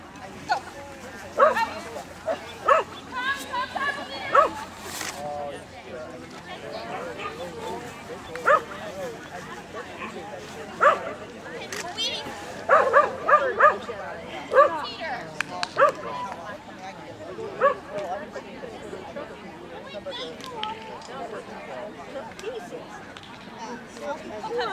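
A dog barks and yips intermittently at a standard obedience trial, the barks fairly close, over steady background chatter and a handler's voice.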